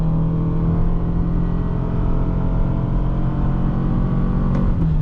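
A 2023 Toyota Sienna LE Hybrid minivan accelerates hard up a slight grade with a brief wheel spin, its steady engine drone and road rumble holding loud and close throughout.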